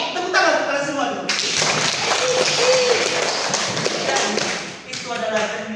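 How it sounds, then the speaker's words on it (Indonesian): A classroom of students claps their hands together during a micro-teaching session, a dense burst of rapid clapping lasting several seconds, with a teacher's voice before and after it. "Tepuk tangan untuk kalian semua dulu."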